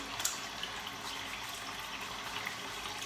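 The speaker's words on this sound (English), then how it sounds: "gotta put the sink on, the water on for a second" A bathroom sink tap runs water steadily and fairly faintly throughout, a broadband hiss of flowing water with no talk over it, in a wet-shaving setting.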